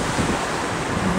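Sea waves and wind on the shore in Greece near a seaside church, a steady broadband wash of surf with wind rumble on the microphone, loud and continuous, no talk.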